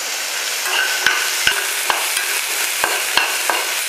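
Onions fry in a pan for mutton curry, a steady close sizzle punctuated by sharp clicks of a utensil stirring against the pan at irregular intervals, with no speech.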